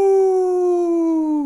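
A man imitates a wolf howl with his voice, a single sustained tonal call that slides slowly downward and wavers near the end, loud and close.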